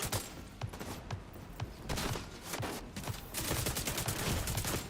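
Enemy gunfire in The Division 2 crackles in dense, overlapping volleys of sharp shots, loud and continuous, with bursts growing heavier toward the end.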